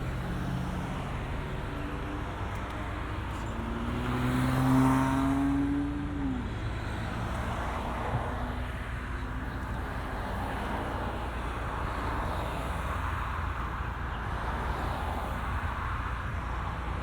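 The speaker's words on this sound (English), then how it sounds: "let's try putting down the top." A steady mechanical whir with a low motor hum runs for several seconds, a Bentley Continental GTC's convertible roof folding back over a constant background drone.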